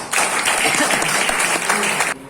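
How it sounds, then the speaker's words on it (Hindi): A crowd at a gathering honouring a couple's wedding anniversary bursts into loud, sustained clapping that fills the space for about two seconds, then stops abruptly. "मैडम जी के लिए जोरदार ताली होना चाहिए।"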